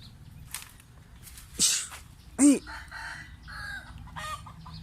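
A rooster crows once at moderate distance, a short rising-and-falling call in the middle of a quiet morning farm scene where grass is being cut for cattle, with faint bird chirps and low ambient noise around it.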